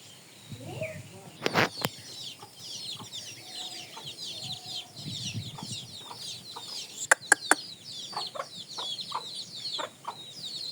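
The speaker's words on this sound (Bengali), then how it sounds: "মুরগি জাংলার উপরে বসে রয়েছে।" A hen perched on a vine trellis in a rural village garden clucks in short bursts, with sharp calls near 1.5 and 7 seconds, while small birds chirp steadily in the background.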